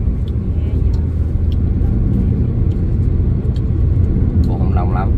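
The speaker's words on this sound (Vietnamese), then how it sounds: "Bên kia kẹt xe kìa." Dense road traffic rumbles continuously in a traffic jam on a highway out of Saigon toward Ben Tre, a loud steady engine roar with people talking faintly over it.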